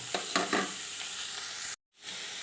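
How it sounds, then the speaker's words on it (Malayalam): Sliced onions sauté in hot oil with ginger and garlic in a pan for Kerala-style egg curry, giving a steady bright sizzle. A few stirring scrapes come early, then a brief cut to silence before the frying hiss returns. "സവാളയൊക്കെ നന്നായിട്ടൊന്ന് വഴറ്റിയെടുക്കുക"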